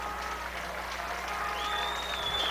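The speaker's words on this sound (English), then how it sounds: "The Titan fans getting up and applauding the seniors." Titan fans at a high school football playoff game standing and applauding the seniors, a steady wash of crowd clapping heard from a distance.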